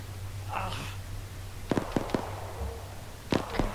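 Distant gunfire in the military video game Arma 3, a few faint sharp cracks in two small clusters over steady low background hum, with a soft voice briefly heard.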